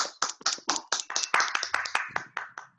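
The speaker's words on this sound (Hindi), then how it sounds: "ताली, जोर से बजा।" Steady rhythmic clapping from a small group, moderately loud and close, sounding like a short round of applause without speech.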